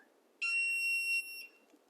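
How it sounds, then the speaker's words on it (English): A single sustained electronic beep from a HidroPony hydroponic growing system, steady and tonal, lasting under a second in a quiet room, followed by a brief fainter chirp. "It's beeping."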